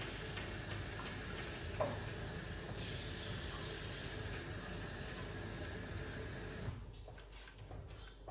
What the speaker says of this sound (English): Wash off some fruits.